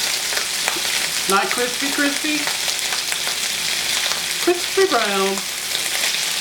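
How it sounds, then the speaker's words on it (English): Oil fries in a pan with a steady, close hiss and crackle throughout, while someone talks briefly twice over it. "I have a little oil in my pan. And I'm just going to fry these up"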